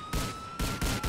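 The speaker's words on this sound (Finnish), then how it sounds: "Ammutaan poliisit." Gunfire at police in the video game GTA IV: a few quick, loud, dense shots in bursts over constant game noise, no voices.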